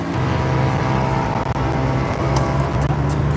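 A motorcycle passes close to an outdoor tennis court during a junior singles final in Keningau, Sabah, its engine a steady, fairly loud drone that holds throughout.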